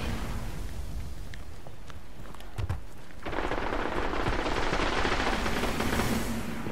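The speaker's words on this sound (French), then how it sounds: "Fusil à impulsion" Pulse rifle fire in Destiny on PS4: after a few seconds of low game ambience, a dense, sustained rattle of rapid shots kicks in and keeps going, loud and close.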